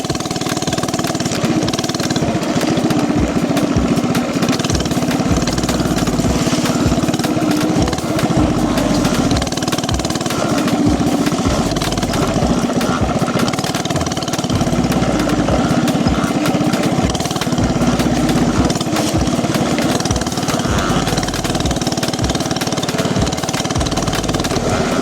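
Predator 224 engine on a mini bike running steadily at idle to mid revs, a loud continuous chugging mechanical clatter close by for the whole stretch, no talking.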